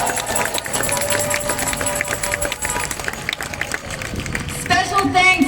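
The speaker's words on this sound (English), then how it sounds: "please give yourselves a big round of applause" Crowd at an outdoor rally clapping and cheering in a steady, dense wash of applause, with a voice over a loudspeaker cutting in near the end.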